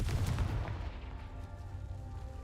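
A Confringo blasting spell explodes in the Hogwarts Legacy video game, landing as a loud booming burst at the start and then fading into a lingering low rumble.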